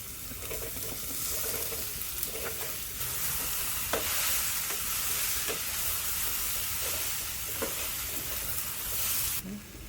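Soaked, squeezed soya chunks (meal maker) fry with turmeric in a pan, a steady sizzle broken by scraping stirs and spoon taps, with no talk over it.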